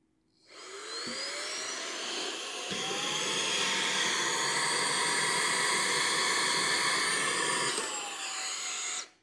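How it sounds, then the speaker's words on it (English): A cordless car vacuum, either a HOTO Autocare or a Fanttik Slim V8 Apex, whines loudly on boost suction for about eight seconds, its pitch rising as it spins up and shifting slightly at the end. "I will do the boost and see if the boost is strong enough to provide that extra suction"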